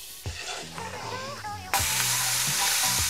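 Vegetables dropped into a light brown roux for shrimp gumbo, bursting into a loud, steady sizzle that jumps up sharply partway through, with faint stirring and no talk.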